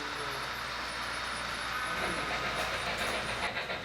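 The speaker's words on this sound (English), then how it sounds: "Here we come, the articulated coming up grade with the coal train behind it." A model train with an articulated locomotive hauling a coal train up a grade rumbles steadily along the layout track with a continuous rolling clatter and faint hiss, holding close and even throughout.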